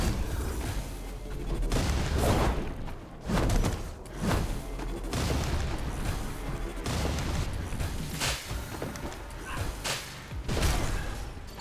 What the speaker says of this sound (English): Wonderful explosion.